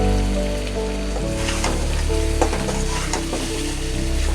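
Sea fish and sweet pumpkin sauté in a pan with a loud, continuous sizzle, overlaid by repeated scraping and stirring knocks throughout, with no voices.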